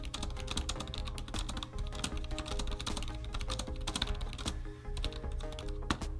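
Rapid, quiet key taps on a Logitech K780 low-profile chiclet keyboard, clicking in a quick irregular rhythm, close up with no voices.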